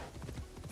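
Horse hooves clip-clop in Assassin's Creed Shadows, a short burst of quick rhythmic hoofbeats at moderate loudness.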